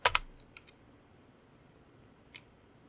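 Typing on a computer keyboard at a crypto mining rig running HiveOS: a quick pair of sharp key clicks at the start, a few lighter taps after, then one more click near the end, all close and otherwise quiet.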